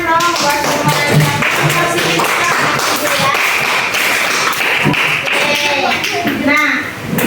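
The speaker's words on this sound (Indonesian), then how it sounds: "Tepuk tangan dong buat semuanya" A classroom of students claps together, producing dense, rapid hand claps that are close and loud, with children's voices mixed in.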